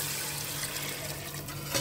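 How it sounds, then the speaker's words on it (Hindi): Water pours steadily into a cooking pot of fried masala for potato rice, a continuous splashing rush that ends with a small knock. "अब मैं डालूंगी पानी,"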